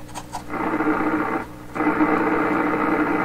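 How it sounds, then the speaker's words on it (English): A 1928 RCA Victor Model 28V radio plays loud broadband static and hiss, briefly dropping out near the middle before resuming at full level, with no talk over it. "Sounds just like a radio."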